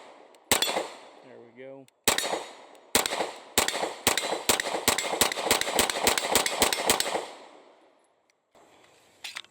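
Beretta APX A1 pistol firing a long string of sharp, loud shots in quick succession, with a brief pause near the start and someone speaking a few words between shots.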